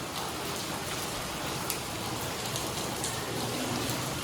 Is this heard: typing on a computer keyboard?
no